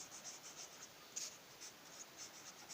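Hand-written maths working being jotted down in a quiet lesson, with faint, soft scratchy strokes in short repeated bursts close up and no talking.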